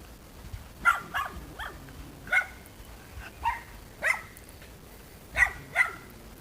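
Several dogs bark at horses outdoors, a string of moderately distant barks and yips coming singly and in short pairs with quiet gaps between them.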